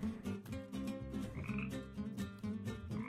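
Frogs croak in the Tasty Planet: Back for Seconds video game, a run of loud, rhythmic cartoonish croaks repeating in quick succession over a steady tonal game backdrop, with no talking.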